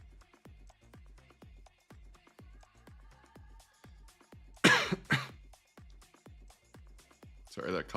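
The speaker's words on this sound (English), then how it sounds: "Sorry, that cough was probably pretty loud and scared some people." A person coughs loudly twice in quick succession, then once more near the end, with sharp, close bursts that stand out over a steady, rhythmic low thumping in the background.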